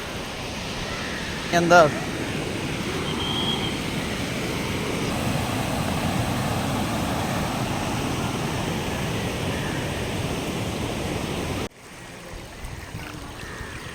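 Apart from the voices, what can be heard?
flowing water at Dev Ghat waterfall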